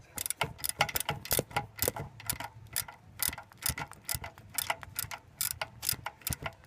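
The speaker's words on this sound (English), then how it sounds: "Just gonna be tightening it up." Ratchet wrench with a 9/16 socket tightening an alternator bolt on a 1992 Ford Bronco, giving rapid, fairly loud repeated clicking in uneven bursts with no talking.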